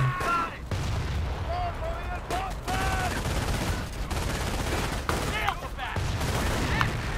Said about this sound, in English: Can I keep them busy with our machine gun over here?